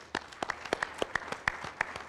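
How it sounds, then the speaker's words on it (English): Sparse, scattered hand claps from a small audience at a Hanukkah concert, a handful of distinct claps in an irregular rhythm, fairly faint and with no talking. "Let's put a round of applause for him as well."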